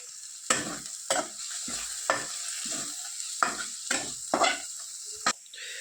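Garlic-ginger paste with a green chili sizzles steadily in a hot pan, broken by about eight sharp scraping stirs of a spatula at irregular intervals, close and fairly loud with no voices.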